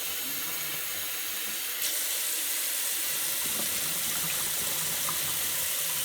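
Water runs steadily from a tap as yeast is rinsed into a container, a continuous close splashing hiss with a slight change in tone partway through.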